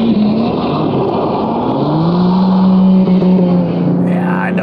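BMW M3 Touring with a 3-litre twin-turbo inline-six, heard as a loud, steady engine drone from inside or near the car while driving, with the pitch slowly rising and then easing off.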